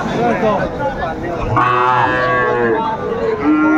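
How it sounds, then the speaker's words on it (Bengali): Sahiwal cattle calves at a livestock market, one drawn-out loud moo rising over steady crowd murmur and nearby voices talking, close to the listener. "শাহিওয়ালের বাচ্চা আমরা দেখছিলাম।"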